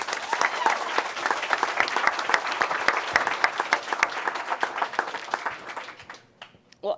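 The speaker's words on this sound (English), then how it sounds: "everyone deserves a huge round of applause" Sustained applause from an audience at a Democratic candidates forum for the 2022 Tennessee races, dense steady clapping that thins out and fades near the end.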